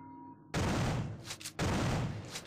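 Two heavy shotgun blasts firing slugs in the game System Shock 2, each a loud booming report with a short decaying tail, about a second apart after a quiet start.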